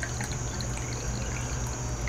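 Pure seawater is poured into a lidded glass jar, giving a steady, continuous trickling and splashing of liquid that stays close and alone throughout the short moment.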